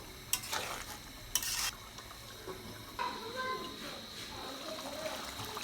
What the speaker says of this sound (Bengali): সবগুলো মশলা দিয়ে একটু ভালো করে নেড়ে চেড়ে নেব